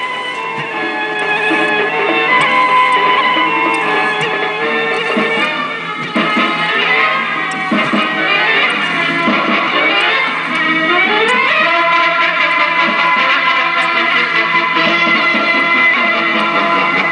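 An Eicor reel-to-reel tape recorder plays back music loudly through its small built-in output, giving a dense, continuous and somewhat boxy sound that stays steady for the whole stretch, with no talking.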